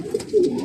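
A homing pigeon, a racing bird, gives a short, soft low coo that swells in the middle and trails off, close and alone with no talk.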